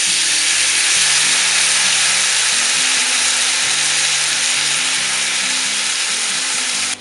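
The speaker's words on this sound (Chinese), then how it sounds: "煎到包子底儿金黄后，倒入1半淀粉水" Starch water hits a hot pan of frying pork and celery buns, making a loud, steady, close hiss of sizzling and bubbling oil that holds without a break and cuts off sharply at the end.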